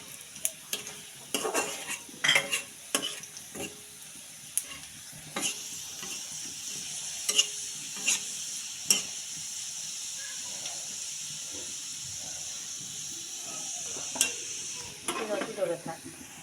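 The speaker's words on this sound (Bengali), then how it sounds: "কয়েকটা পাঁচ ফোড়ন আর জিরা" Panch phoron five-spice and cumin seeds sizzle in hot oil as a tempering for a mixed vegetable dish: a soft, steady hiss broken by sharp clicks and scrapes of stirring, rising near the end.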